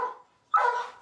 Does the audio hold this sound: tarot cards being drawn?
no